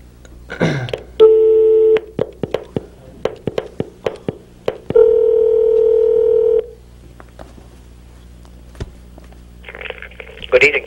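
A landline telephone plays during a phone-a-friend lifeline on a game show: two sustained dial-tone bursts broken by a run of rapid dialing clicks and taps, loud and close, with a brief voice at the start and end.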